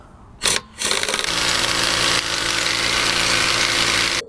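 An impact wrench, a cordless type fitted with an emergency lug removal socket, runs on a stuck lug nut of a Chevy Volt. There is a short burst, then a steady loud whirring rattle that continues for about four seconds before it cuts off.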